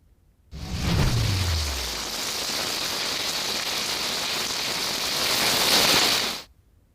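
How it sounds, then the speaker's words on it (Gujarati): Heavy downpour drumming loudly and steadily, a dense unbroken roar of rain on surfaces that starts abruptly, with a low rumble fading early, then continues alone before cutting off. "અને હવે વાત ધોધમાર વરસાદની।"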